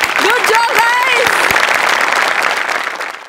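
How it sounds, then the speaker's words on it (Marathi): Studio audience at a Marathi comedy show breaking into loud, dense applause right after a comedy sketch, with cheers and voices over it at first before the clapping fades out. "आमिर हडकर आणि मंडळींसाठी पण एकदा जोरदार टाळ्या झाल्याच पाहिजेत."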